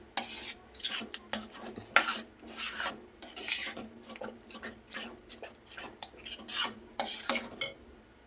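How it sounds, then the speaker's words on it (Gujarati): A spoon stirs salt into a thick jowar flour khichu batter in a pot, giving irregular scraping and knocking strokes against the vessel, close and fairly quiet with brief pauses between bursts. "એને પણ સરસ મિક્સ કરી લઈએ."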